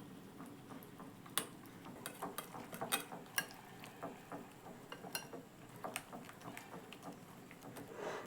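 Egg mixture for a fish omelette is beaten with a whisk in a bowl, producing a steady run of light, close clicking and tapping strokes at a quick, slightly uneven pace.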